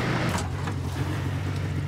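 Engine of a vehicle being driven in Battlefield 4, a steady low rumble that holds at close range and even loudness, with no talk over it.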